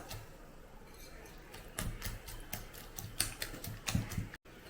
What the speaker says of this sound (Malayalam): ഇത് മൂന്നും കൂടെ മുട്ടയും ഓട്സും ആ ഏത്തപ്പഴവും നല്ലപോലെ ഒന്ന് ബീറ്റ് ചെയ്തെടുക്കാം